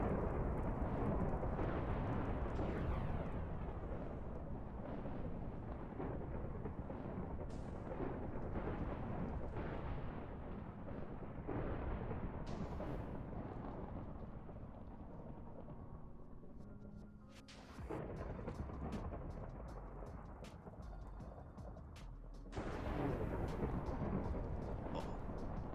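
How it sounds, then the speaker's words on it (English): Thunderstorm skill in the Tensura Reincarnated video game: a heavy, continuous roar of thunder and rain, with rumbling bursts and cracks swelling and fading throughout, loud and close, no voices. "I think it's storm."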